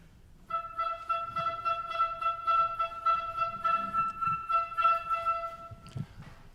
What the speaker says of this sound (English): it's only played by 2 instruments, a flute and an oboe, and it sounds like this.